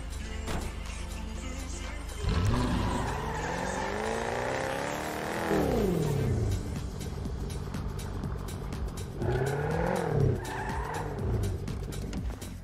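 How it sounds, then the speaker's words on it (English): A car in a video game skids with long squealing tire sounds as it parks, two drawn-out screeches separated by engine rumble, loud and close with no talking. "Let me park my car."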